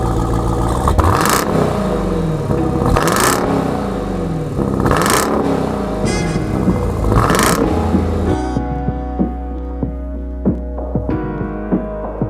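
A GMC Sierra AT4 pickup truck launches hard with launch control, its engine roaring loudly through repeated rising gear pulls before settling into a lower, throbbing drone.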